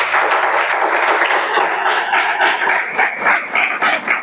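Steady broadband clapping from a group of students in an online police exam preparation class, dense and continuous throughout with no speech over it.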